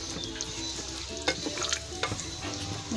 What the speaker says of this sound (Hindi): इसको मिक्स करेंगे अच्छे से, इसको मिक्स करेंगे।